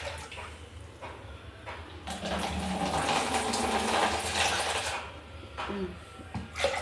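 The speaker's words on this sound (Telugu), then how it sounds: "దీన్ని ఒక కుక్కర్లో వేసుకొని నీళ్ళు పోసుకొని ఉడకబెట్టుకోవాలి." Water poured into a pressure cooker holding soaked dried peas, a rushing splash that swells in the middle and then tapers, with a few knocks near the end.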